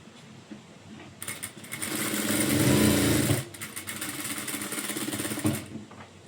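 Sewing machine stitching a blouse shoulder seam: a steady mechanical whir runs in two bursts with a short pause between, close and fairly soft.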